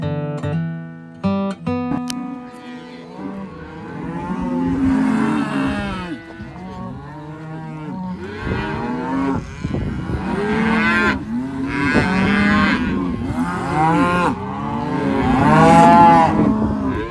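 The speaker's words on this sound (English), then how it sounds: "All the cows and calves from the winter pasture back together" Cows and calves brought back from winter pasture moo repeatedly after being reunited, a loud chorus of overlapping long, low calls from several animals close by, building toward the end.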